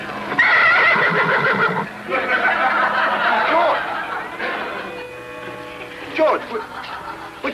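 A horse in a stall gives loud, close whinnies and snorting neighs in several bursts, with people talking around it.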